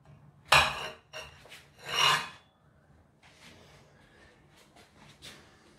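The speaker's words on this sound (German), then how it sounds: "Jetzt schneiden wir die Pizza mal an." A knife or pizza cutter rasps through a Bavarian Oktoberfest-style pizza crust in two loud, scraping bursts, followed by softer, scattered cutting scrapes, close up with no talking.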